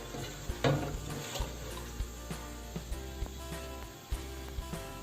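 Ingredients dropped into hot oil in a pan for a green bean, potato and chicken curry, giving a soft steady sizzle with occasional clinks and stirring knocks close by.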